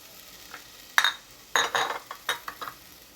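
Red onion, garlic and tomato tumble into a cooking pot with a few quiet clinks and soft thuds against the metal, followed by light scraping from a ladle. The sounds come in short separate bursts against a quiet background.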